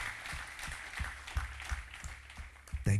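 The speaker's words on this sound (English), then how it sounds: "Come on, I want to clap for this." A church congregation claps in a steady, rhythmic beat, the applause fairly quiet and even, with a louder burst at the very end.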